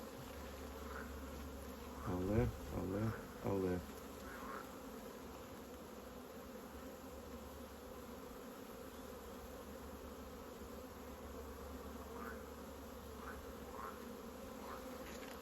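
A steady, dense buzz of many honey bees in an open hive hums throughout, with a person calling out briefly near the start over the drone.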